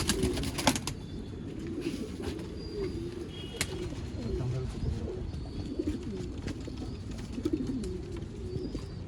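Old line breed pigeons in a loft coo and shuffle steadily, with occasional brief wing flaps, close and moderately loud under a continuous low murmur of birds.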